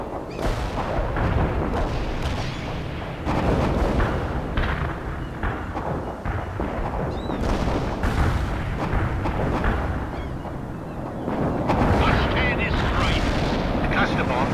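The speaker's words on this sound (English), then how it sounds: "The cluster bomb didn't kill anything." Cluster bomb airstrike in World in Conflict, a string of heavy booming blasts and rumbling detonations that roll on loudly and continuously, with voices partly underneath.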